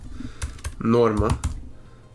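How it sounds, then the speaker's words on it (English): A word typed on a computer keyboard gives a quick burst of close clicking keystrokes, with a voice briefly speaking over part of it. "and then you type that in"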